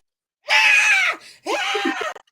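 Excited people at a 2024 nationals event scream loudly in two long bursts, the second slightly shorter and trailing off into brief yelps, with no talking.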